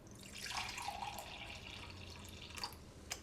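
Rainwater is poured from a cup for a garden spray mix, a faint, close trickle and splash lasting a few seconds, ending with a couple of small drips.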